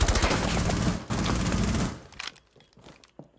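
Rapid bursts of automatic gunfire fired through reinforced walls in the video game Rainbow Six Siege, a dense loud volley that stops after about two seconds, leaving a few scattered faint thuds.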